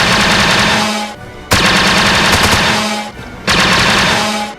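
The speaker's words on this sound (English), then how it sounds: "The RT-97C is a rebel weapon that was used during the original trilogy." An RT-97C rebel blaster fires in a Star Wars VR mod game, loosing three long, loud, rapid automatic bursts with short silent gaps between them.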